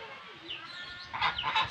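An orphaned chicken chick on a poultry farm peeps in short, high, fairly close calls that grow louder toward the end.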